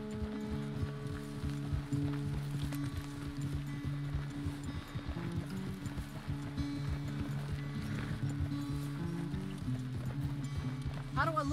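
Horse hooves clip-clop at an easy walking pace in Red Dead Redemption 2, a steady soft rhythm close by under music and a character talking.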